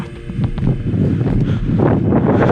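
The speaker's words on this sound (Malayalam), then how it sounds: "ഇവിടെ നല്ല കാറ്റുണ്ട്." Steady, loud wind buffeting the microphone on a hiking trail at Brandipara in Periyar Tiger Reserve, a low rumbling roar with gusty rustle throughout and no voices.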